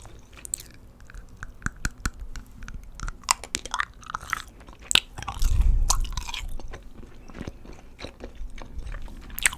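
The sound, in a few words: chewing chewy apple-flavoured gum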